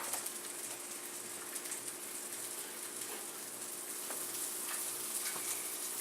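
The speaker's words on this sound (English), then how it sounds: "We're just going to put the ham in the pan." Ham frying in a pan for a keto-style grilled cheese, giving a steady, fairly faint crackling sizzle that runs evenly throughout with no talking.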